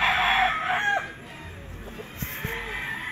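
A gamefarm rooster, a pure 5K Sweater stag with yellow legs and leg band, crows once in a rising and falling call at moderate distance, followed by a few short clucks over a steady outdoor background.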